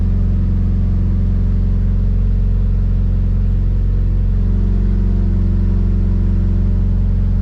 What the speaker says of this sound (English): Let the car run for about 30 to 40 seconds.